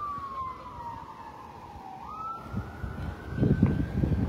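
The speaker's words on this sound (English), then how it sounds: "Y'all hear the sirens off in the background?" An emergency vehicle siren wails in the distance, its pitch slowly falling then rising, while low traffic rumble and clattering noise build underneath, on a city street.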